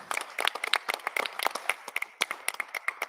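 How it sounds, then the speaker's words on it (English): An audience at a school district candidate forum applauds, with many sharp, overlapping hand claps in a brisk, sustained rhythm, fairly close and without talk. "Give them a round of applause"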